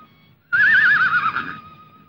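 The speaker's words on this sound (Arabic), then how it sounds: "ابو الدهب ده حصان" A horse whinnies once, loud and close, a wavering call of about a second that fades out over a faint low background.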